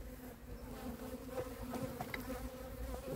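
Honeybees swarming over a hive frame while a beekeeper inspects queen colonies, giving a steady, dense buzzing hum close by that carries through the whole stretch with faint handling noises.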